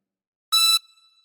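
A single high note on a chromatic harmonica, blown into hole 9, sounds clean and bright for about a quarter second, then rings off faintly with no talk.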